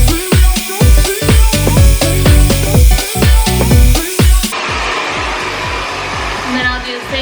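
A hair dryer blows steadily and loudly through thick curly hair during a blowout, its roar pulsing in rhythmic bursts as it passes over the strands, then settling into a smoother, more even whoosh.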